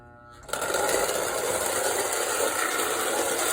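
An electric motor from the 1950s, powered to run backwards, switches on after a brief pause and settles into a steady, close mechanical whir with a faint ratcheting texture.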